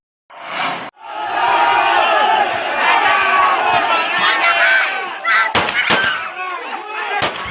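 Hundreds of angry residents shout and roar in a sustained crowd din while police evacuate two captured motorcycle thieves, with sharp bangs and cracks breaking through the uproar in the later seconds.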